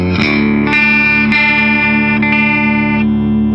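Electric guitar in an alternative tuning run through distortion and effects, with sustained ringing chords struck a few times, swelling with reverb and echo, loud and alone without voices.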